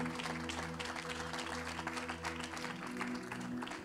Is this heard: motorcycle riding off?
no